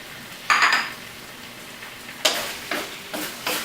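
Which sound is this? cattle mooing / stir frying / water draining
stir frying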